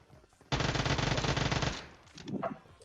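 Uzi submachine gun in PUBG Mobile firing one sustained automatic burst of a little over a second, loud and close, then cutting off into a short tail with faint game noise.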